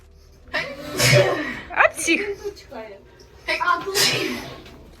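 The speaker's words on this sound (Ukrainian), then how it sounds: "І він чхає." A giant nose exhibit at a science park lets out loud sneeze blasts, two main bursts separated by a pause, with people chuckling and talking around it.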